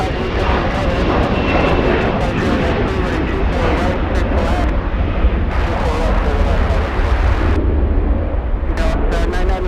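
A Boeing 757 airliner lining up for takeoff at LAX, its jet engines a loud steady rumbling roar with wind noise, while a voice talks over it.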